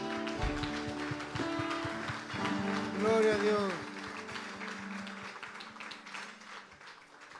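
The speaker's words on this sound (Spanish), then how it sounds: "Dale un fuerte aplauso al Señor" Church congregation clapping for the Lord during a worship service, steady applause under music and a voice speaking briefly, moderately loud and continuous throughout.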